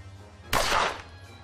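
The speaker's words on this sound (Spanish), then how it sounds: "Buen disparo, buen disparo." A single sharp gunshot in the tactical game Achtung! Cthulhu Tactics, a loud crack with a short rumbling tail that fades within half a second, heard alone over a low background hum.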